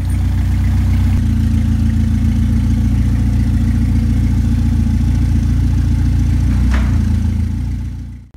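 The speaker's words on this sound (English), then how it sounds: "Unfortunately, without the throttle cable, I can only move the car while it's idling." A project car's engine idles steadily in gear with the transmission engaged, a loud, continuous low rumble that runs throughout, with a brief faint knock near the end and no voices.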